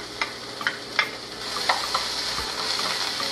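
Rice stirred into a hot pan, steady sizzling and frying with repeated scraping strokes of a spoon, close and fairly loud with no talking.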